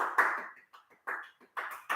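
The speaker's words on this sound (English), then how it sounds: "Let's give ourselves a very well-earned round of applause" A few people in a seated exercise class for older adults clap together, three short bursts of hand claps with brief pauses between them, close and fairly light.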